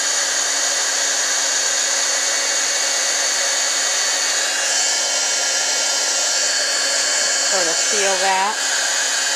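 A hair dryer blows hot air onto leather boots before they are weatherproofed with sealer, giving a loud, steady whine that runs the whole time while a person speaks briefly near the end.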